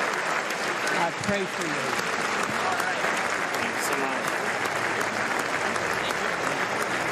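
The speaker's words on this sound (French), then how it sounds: "Scène en tout cas très applaudie." An audience applauding as an American veteran greets Volodymyr Zelensky at a large event, continuous, dense clapping filling the hall, with a voice briefly speaking over it.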